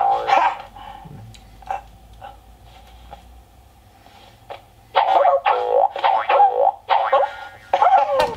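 A cartoon dog in a Blue's Clues video game barks and jumps: loud, quick bark and yip bursts bunch up in the second half after quieter game sounds, with a springy bounce effect.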